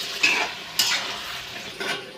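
Chicken with potato and tomato is stirred in a pot of spicy kosha, with three scraping, sizzling strokes of a spoon against the pot in quick succession.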